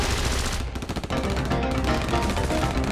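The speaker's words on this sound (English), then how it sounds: "The sound of gunfire." Sustained rapid gunfire, a dense rattling fusillade of overlapping shots that continues without pause.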